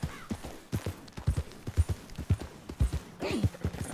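Horse hooves clip-clop in a steady, galloping rhythm while riding in the Red Dead Redemption 2 video game, with close, repeated thuds continuing throughout.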